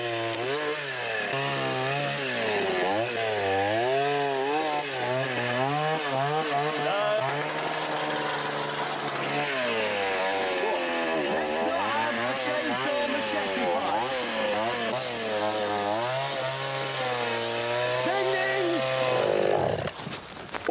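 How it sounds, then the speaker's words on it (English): A chainsaw cuts into a tree in Bolivia, its engine running loud and continuous for about twenty seconds while its pitch repeatedly climbs and sags as the blade bites and frees, with a short drop near the end. "you should put the chainsaw in the bloody car and go"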